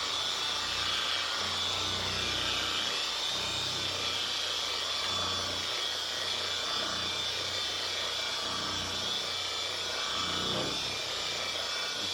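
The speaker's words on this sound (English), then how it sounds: "Just polish out the compound." A machine polisher works compound over the paint of a 1982 Jeep CJ7 Limited, making a steady, fairly quiet whir with a rubbing texture. Nobody speaks.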